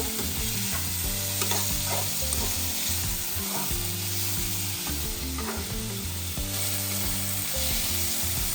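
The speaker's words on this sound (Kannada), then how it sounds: "ಈಗ ಲಾಸ್ಟಲ್ಲಿ ಒಂದು ಪುದೀನ ಎಲೆ ಮತ್ತೆ ಕೊಬ್ಬರಿಯನ್ನ ಹಾಕ್ತಾ ಇದ್ದೀನಿ." Fresh coconut and mint leaves roast and sizzle in a pan on the stove, with steady stirring scrapes and clinks running throughout and no talking.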